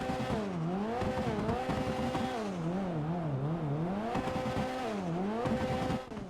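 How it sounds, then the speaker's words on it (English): A Vapid GB200 car engine in GTA 5 Online revs up and down repeatedly in a loud, continuous drone, its pitch rising and falling in waves with a harsh, buzzy tone. "hear how the car sounds"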